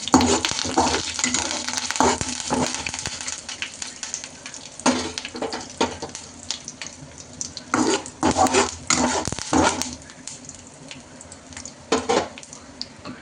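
Tempering spices crackling in hot oil for coconut chutney, a dense steady sizzle with repeated stirring scrapes and clinks of a utensil against the pan, close and fairly loud throughout.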